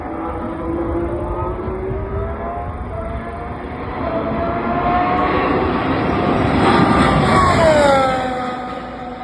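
Formula 1 cars passing on track, loud engine whines that rise and fall in pitch as each car sweeps by, building to a close, roaring pass near the end.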